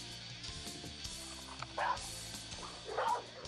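Aggressive dog lunging and barking at an animal control officer holding a catch pole, with two sharp barks standing out against quieter background noise.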